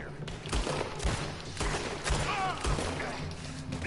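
Video game gunfire in Red Dead Redemption 2, a rapid run of sharp shots with background game noise across a few seconds, fairly close and continuous.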